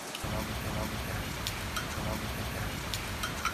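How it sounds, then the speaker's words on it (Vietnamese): Steady rain falls throughout, a dense continuous hiss with scattered drop patters, fairly close and loud, with no clear talk over it. "Rồi, mưa vậy là mưa cho hết nước chưa?"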